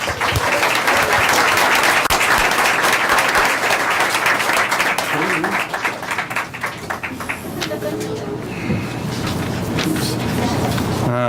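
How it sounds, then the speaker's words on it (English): Audience at a board meeting applauding the evening's honorees: loud, dense clapping that fills the room, thins after several seconds, and leaves a quieter patter with some murmuring. "Please give them all a round of applause."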